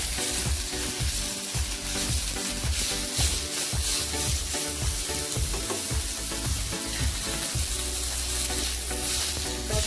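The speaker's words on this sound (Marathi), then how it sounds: "एक चमचं जिरं असं थोडंसं एक दोन मिनिटासाठी असं खालीवर करून घ्यायचं" Cumin seeds frying in a hot pan with fresh coriander, a steady loud sizzle broken by repeated scraping strokes of a spoon stirring the mixture.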